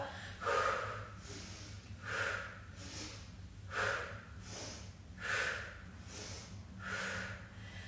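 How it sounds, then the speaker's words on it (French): Slow, deliberate breaths during an exercise session, in through one side and out through the mouth, about five or six audible airy cycles repeating evenly, soft and close. "On va inspirer d'un côté, expirer de l'autre. On peut expirer par la bouche"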